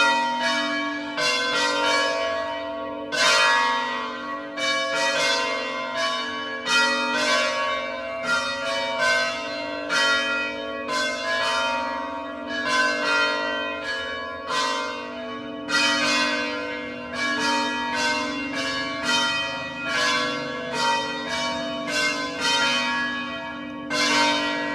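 Church bells ring at the monastery in Monterosso al Mare, Italy, striking in a steady, overlapping peal. The clear, resonant strikes continue for about twenty-five seconds and carry no talk.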